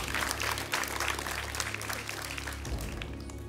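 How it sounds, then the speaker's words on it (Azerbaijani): Sustained clapping from a quiz-show studio audience on Əlaçı greets a contestant, an even, crowded patter of many hands lasting several seconds without a break. "Və Ayxan Hüseynlini alqışlayırıq."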